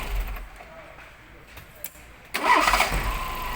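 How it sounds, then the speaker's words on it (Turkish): A car engine catches on a half crank, a brief starter whirr giving way to a sudden loud firing and rough running idle after a quiet stretch, with a voice speaking nearby. "Gördüğünüz gibi yarım marş."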